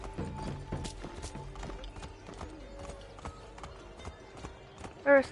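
Horse hooves in the video game Assassin's Creed III clip-clop in a steady walking rhythm, fairly quiet, followed by a short sharp sound at the end.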